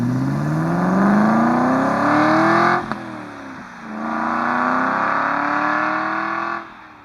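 Aston Martin V8 Vantage driving through a small Scottish town, its engine note rising steadily as it pulls through the gears, a brief lift around midway, then another long climbing pull before easing off.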